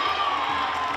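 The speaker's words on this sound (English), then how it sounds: "Applause from the crowd." A crowd at a schoolgirl rugby league grand final cheers and applauds in a dense, steady roar for a brief moment.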